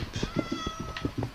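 A cat in the Minecraft video game meows several times in quick succession, short clear repeated calls close up and alone.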